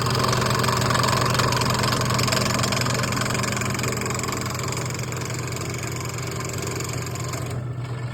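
A workshop cutting machine runs with a steady motor hum and a faint buzzing drone, making a couple of small cuts to free a corner, loud and even throughout with no speech.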